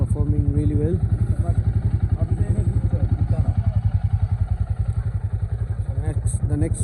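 Royal Enfield Super Meteor 650 motorcycles ride on a cold coastal highway trip, their steady engine drone and pulsing exhaust thump loud and close throughout, with wind rush and a voice talking over the engines.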